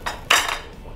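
A metal pot of three-potato soup is lifted off the stove, giving a light clink followed by a louder, ringing scrape of metal on metal, close and brief.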